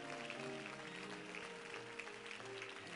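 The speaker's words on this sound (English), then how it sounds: "Clap those hands for Jesus" A church congregation claps hands continuously in a dense, even wash of applause, mixed with music during worship.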